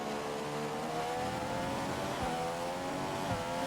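A Formula 1 car in the F1 2015 racing game, the engine whining at a steady high pitch close by with small gear-shift dips, no voices.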